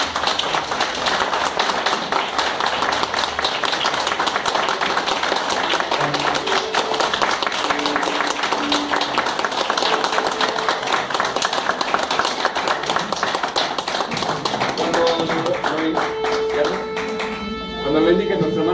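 A church audience claps for a choir after a performance of Handel's Messiah, with steady dense applause that fills the room and then thins out near the end, where instruments begin tuning.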